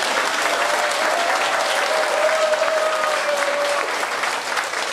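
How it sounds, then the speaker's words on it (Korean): A crowd at a public event in Gangbuk, Seoul, claps for the district's civil servants. The sustained, dense applause rolls on evenly for around five seconds and eases slightly at the end. "이 공무원들을 위해서 박수 한번 쳐주십시오."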